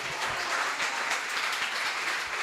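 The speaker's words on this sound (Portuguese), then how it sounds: "Uma salva de palmas para quem?" A church congregation applauds during a Sunday evening service, a steady dense wash of clapping that holds evenly throughout without speech.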